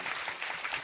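An audience at a religious kirtan gathering claps for the maharaj, a steady patter of hands heard only briefly.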